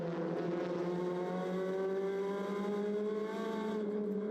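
TCR touring race cars corner through a right-hander at the Salzburgring in 2015, a loud sustained engine drone with rising pitch as they accelerate, several cars blending together without pause.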